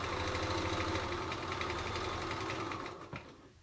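A sewing machine stitching fabric for a small pouch, running in a steady fast mechanical whir with rapid needle chatter, close and fairly loud, slowing and stopping near the end.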